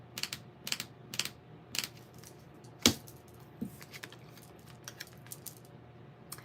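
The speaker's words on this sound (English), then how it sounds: "Y'all are watching me shuffle." A deck of tarot cards being shuffled by hand gives off close, dry, papery clicking bursts in irregular clusters, with one sharper snap partway through and no speech.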